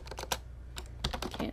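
Quick typing on a computer keyboard: a short burst of irregular clicky keystrokes, close and moderately quiet, over a faint low background hum.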